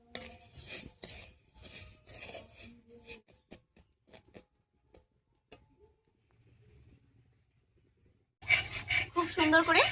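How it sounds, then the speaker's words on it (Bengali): Sugar caramel stirred in a pan on the stove gives scattered metallic scrapes and clinks, fairly close, with quiet gaps and a louder clattering stretch near the end. "আর এই ফাঁকে আমি চিনির একটা ক্যারামেল তৈরি করে"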